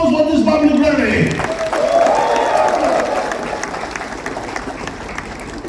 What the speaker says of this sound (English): shall we all give a big round of applause for this public rally?